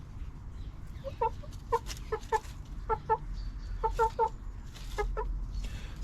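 An Araucana chicken clucks in short, repeated bursts of soft, throaty notes, fairly close, over a low background rumble.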